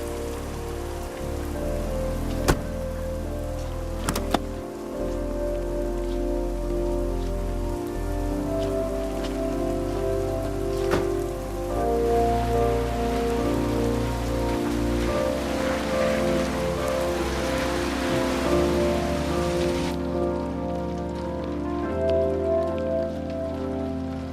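Steady rain patters on a surface, a constant close hiss with a few sharper drips, continuing without any voices.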